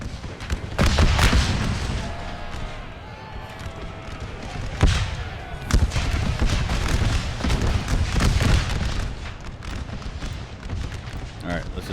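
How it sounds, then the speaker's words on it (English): Musket volleys from massed infantry lines in an American Civil War battle at Champion Hill, Napoleon Total War, sounding as repeated loud cracks and booms across the field, heaviest around the middle and later, under battle noise and soldiers' shouting. "Get a shot off before they're out of range, boys"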